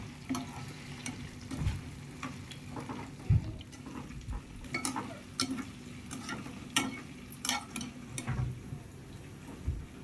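Mutton pieces fry in oil in a pan for homemade pickle, giving a constant sizzling hiss broken by irregular scrapes and clacks of a stirring spoon, close and alone without talk.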